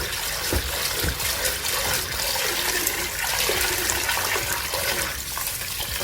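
Pre-soaked beans washed in water for a plantain and bean stew, with steady sloshing, swirling water close by and splashes throughout.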